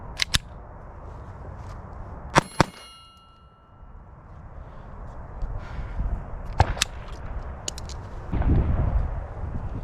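A SIG Sauer P322 .22 pistol fires Remington Golden Bullet rounds outdoors: sharp, loud cracks, one pair early, another pair a couple of seconds later and a last pair near the end, separated by background rumble.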